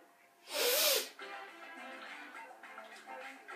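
A single short, loud cough bursts out near the start, then low background noise continues.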